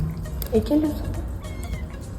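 A kitten from a litter of four with its mother meows softly a couple of times in a home while being fed, under quiet background noise and faint talk.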